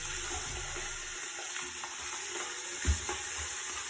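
Two pounds of ground beef frying without oil in an Instant Pot, a steady soft sizzle with occasional stirring scrapes and one louder knock near the end, no talking.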